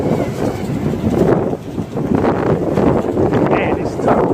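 Strong wind buffets the microphone outdoors during a small Eachine QX90C quadcopter flight, a loud continuous low roar with gusty surges throughout.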